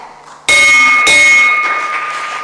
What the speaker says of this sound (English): And Isaac Cosry wants to ring 2 bells